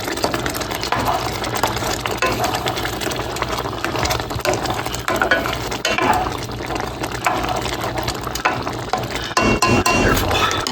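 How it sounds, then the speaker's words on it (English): A seasoning packet is stirred into a pot of food on the stove, with repeated spoon scrapes and clinks against the pot over a bubbling, sloshing bed of liquid, close and fairly loud. "just added in the seasoning packet. I'm going to get this stirred around."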